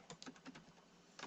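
Quick keystrokes on a computer keyboard, a short burst of close, crisp clicks in an uneven rhythm, alone with no voice.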